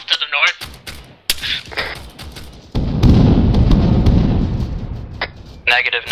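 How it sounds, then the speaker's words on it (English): Mortar rounds land in ARMA 3, giving a loud, sustained barrage of booming, rumbling impacts lasting a few seconds, with radio-style voices talking before and after. "Mortars."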